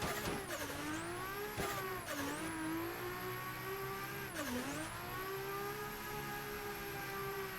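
A drift car doing a lap, its engine revving continuously with pitch dips and rises as it shifts and regains speed. The sound is steady and moderately distant, with a high whine running over the engine.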